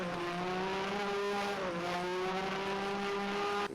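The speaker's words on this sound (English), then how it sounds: "Engine just cut out." 1988 Arrows Formula 1 car at the San Marino Grand Prix, its engine holding a steady high-pitched whine that dips briefly midway, then cuts off abruptly at the end.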